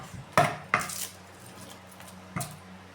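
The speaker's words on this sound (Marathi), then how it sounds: "एकदम पातळ उभा चिरायचा कांदा" An onion sliced very thinly with a knife, heard as a few sharp, close knife clicks against a board spaced apart, with quiet pauses between the cuts.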